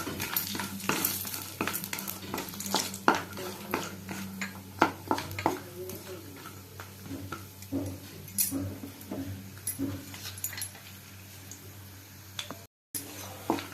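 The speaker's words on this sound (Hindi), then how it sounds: "सेथिरे किछि बड़ी भाजी की रखिबा।" Badi lentil dumplings frying in hot mustard oil in a pan, with a soft continuous sizzle under scattered scrapes and clinks of a utensil stirring, fairly quiet and close, with no talk.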